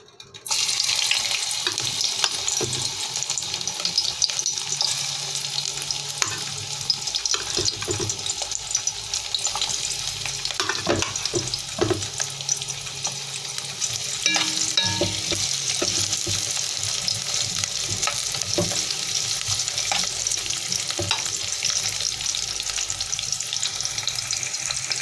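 Onions sizzle steadily in hot cooking oil in a pan, with frequent clatter and scraping of a utensil stirring, continuous and close, no talking.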